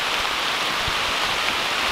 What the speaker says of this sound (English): Yeah, come on into the rain, Paul.